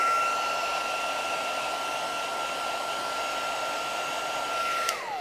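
A heat tool blows steadily for heat embossing a background, a constant loud whooshing roar with a thin whine running throughout, cutting off near the end.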